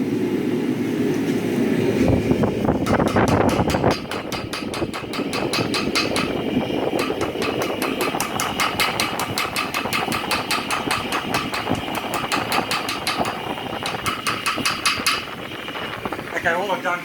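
Heavy hammer blows on hot steel, drawing out and thinning a striker forged from a Wiltshire file; dense, rapid metallic strikes ring steadily and close for the whole stretch with no talk.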